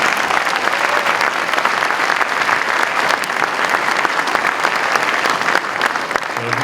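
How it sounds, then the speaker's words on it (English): Parents and audience fill an elementary orchestra concert hall with continuous applause, a thick, even roar of many clapping hands that holds steady throughout, with no talking on top. "Let's give our very small class of 5th graders a round of applause"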